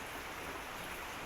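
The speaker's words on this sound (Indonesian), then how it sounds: "Hujan sedang turun." Steady morning rain falls as a dense, even hiss, constant and fairly faint throughout with no voices.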